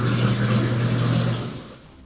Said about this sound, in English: Truck went through someone's house